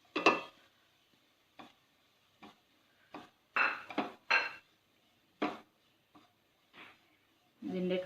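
Chana masala is stirred in a cooking pan with a utensil, giving scattered metallic clinks, taps and scrapes against the pan. The sounds are close and quiet and come in irregular bursts.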